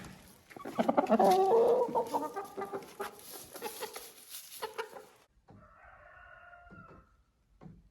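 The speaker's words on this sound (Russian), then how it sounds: "Вот такие курочки." Ameraucana hens cluck and chatter close by in a lively burst, then the calls thin out into scattered clucks and quieter squawks.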